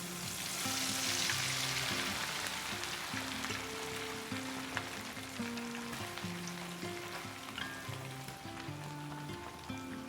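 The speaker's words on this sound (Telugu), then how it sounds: "ఇప్పుడు చికెన్ కీమా వేసుకొని ఫ్రై చేసుకుందాం." Chicken keema frying in hot oil gives a steady, close sizzle with scraping stirring noises throughout and no talking.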